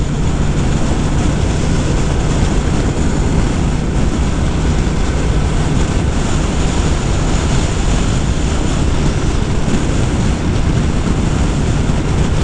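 A 2025 Honda Rebel 1100 DCT cruiser rides along, a steady, loud rush of wind buffeting and a low engine drone that runs unbroken throughout with no talking.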